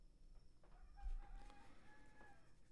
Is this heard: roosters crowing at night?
yes